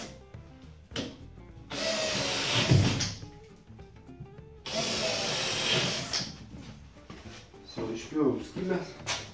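A power drill cuts a hole in drywall plasterboard, with two loud grinding bursts of a couple of seconds each, separated by quieter handling noises, while someone talks between them.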